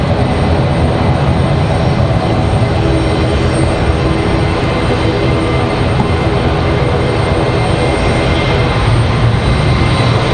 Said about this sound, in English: As you guys can hear, WestJet to Calgary.